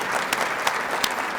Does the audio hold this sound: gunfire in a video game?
no